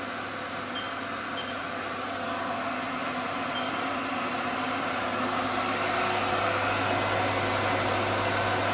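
A Haas VF3 CNC milling machine runs its newly fitted spindle at 500 RPM, a steady dense mechanical hum and whir with loud cooling fans, constant and close with no break.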